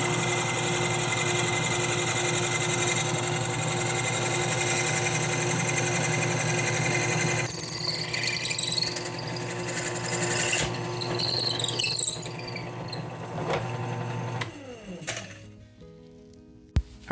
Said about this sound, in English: now we're just gonna drill straight through this piece